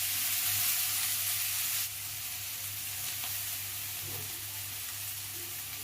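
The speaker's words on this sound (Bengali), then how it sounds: "এদিকে আমার তেলটাও হয়ে গেছে, এখন মানে এখানে ভাজাগুলোকে দিয়ে দেবো" Beetroot and kohlrabi pieces fry in hot oil with a steady, loud hiss that softens slightly after the first couple of seconds, continuing alone without voices.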